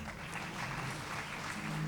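Audience applause at a Gujarati literary evening honoring martyrs, a steady dense wash of clapping held at an even level throughout, with no voices over it.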